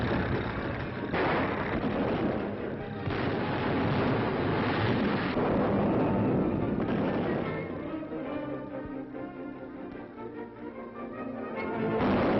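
Red Army artillery and gunfire on a wartime newsreel soundtrack: continuous dense booming and rumbling barrage, muffled and noisy as from an old recording, with repeated heavy thuds throughout.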